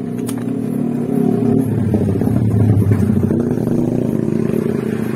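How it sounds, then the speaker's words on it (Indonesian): A Honda Vario 150 scooter with a rough, hissing engine and freshly filled radiator starts up and settles into a steady close rumbling idle with a faint clattering edge, without any talking. "Sudah terpasang, air radiatornya sudah diisi. Jadi saya akan coba nyalakan dulu."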